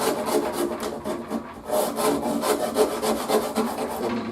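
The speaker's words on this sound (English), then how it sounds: "So you just go ahead with the shinto" Shinto rasp shaping the wood of a bass guitar neck where it meets the fingerboard, a steady back-and-forth scraping with a rough, rhythmic rasp close up, no talk over it.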